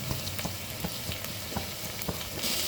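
Ginger, garlic and mustard seeds crackle and sizzle in hot coconut oil for a village-style chicken curry, a dense steady fry broken by sharp pops spaced through the whole stretch.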